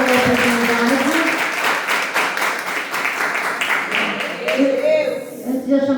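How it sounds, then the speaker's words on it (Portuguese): A church congregation claps together during a service, fairly loud rhythmic applause that blends with voices and singing and fades toward the end. "As palmas do Senhor Jesus."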